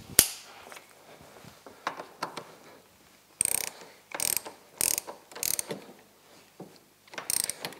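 Ratchet tightening a bolt during a C3 PowerSports belt drive install on a Ski-Doo Freeride snowmobile, with close bursts of quick clicking pawl strokes separated by short pauses and faint handling noise.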